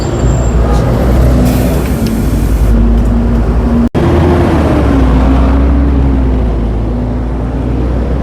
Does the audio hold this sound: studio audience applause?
no